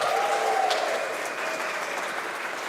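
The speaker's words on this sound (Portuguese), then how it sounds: "aplauda o Senhor, vocês me ajudam" A church congregation applauds to honour the Lord: a soft, steady patter of clapping heard from a distance, with a faint voice over the start.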